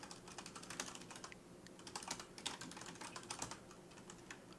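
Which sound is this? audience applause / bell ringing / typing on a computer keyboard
typing on a computer keyboard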